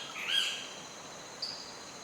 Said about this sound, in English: Shorebirds and wading birds feed at the river's mouth.